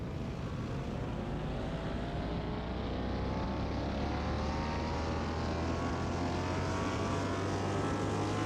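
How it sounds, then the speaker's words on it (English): An Aston Martin DBS, tuned from a factory 510 horsepower to about 1,009 horsepower, runs on a dyno with a loud, continuous engine roar whose pitch climbs steadily as it revs, alone without talk. "Listen to that engine."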